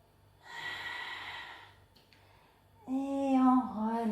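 A person draws in a long, audible breath through the nose during a Pilates exercise. The airy inhale lasts about a second, and then a voice speaks briefly.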